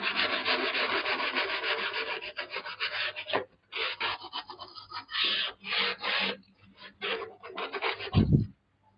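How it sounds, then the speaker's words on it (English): An edge of wood capping is rubbed and sanded back by hand, giving close, rasping strokes that run continuously at first and then break into short separate bursts. "Sometimes it takes a little bit of rubbing."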